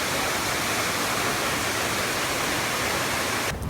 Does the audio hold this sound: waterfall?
yes